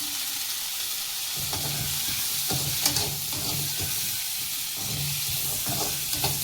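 Cumin seeds and cashews sizzle in hot oil in a pan for a mushroom gravy base, a steady loud frying hiss broken by repeated scraping stirs from a spatula, close up and with no talking.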